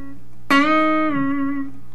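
An electric guitar note played in a lick is bent up a whole step and back, a single sustained twangy tone that rises then settles and rings out alone.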